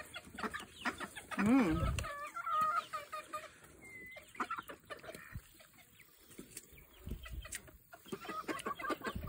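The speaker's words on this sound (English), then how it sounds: "I don't think the ducks like it." Ducks call in short bursts close by, with a few rising honking notes early on, while people talk intermittently in the background.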